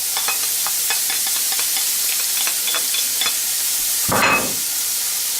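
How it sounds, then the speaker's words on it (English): Chopped mushroom stems sizzle steadily in hot canola oil on a stovetop at medium-high heat, a dense continuous crackle with faint ticking spatters and one brief louder scrape near the end. "Now we're going to want to put the chopped mushroom stems in the oil."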